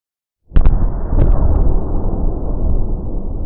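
A 120mm mortar round explodes on impact with a sudden loud, deep boom after half a second of silence, then a heavy rumbling roar that holds for about three seconds before cutting off.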